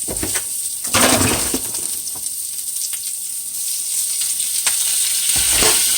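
Fresh spinach sizzles and hisses steadily in a hot pan, a loud continuous fry broken by a few sharper crackles and stirring knocks, with no talking.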